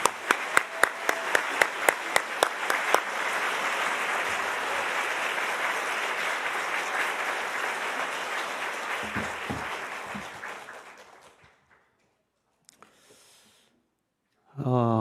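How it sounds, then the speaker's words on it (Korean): Audience applause at an evening revival meeting of a Korean community church gathering in Singapore greets a pastor taking the stage. Dense, loud clapping opens with a few sharp claps and holds for about ten seconds, fades to near silence, then a brief burst returns. "우리 박수로 환영해 주시기 바랍니다."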